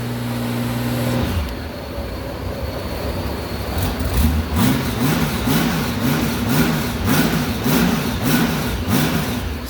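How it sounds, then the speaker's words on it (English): A 1998 Honda GoldWing SE fitted with a trike kit starts up and settles into a smooth, quiet engine run with a steady mid-pitched hum and a gentle pulsing rhythm, heard close with no talking. "Sounds good, very smooth running motor. Quiet."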